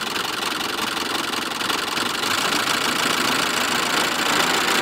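A Mitsubishi Mirage engine idles steadily and loudly with a clanking knock running through the constant, close mechanical drone, and no voices.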